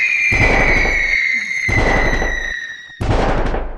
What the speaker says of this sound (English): And you shoot fireworks in the air.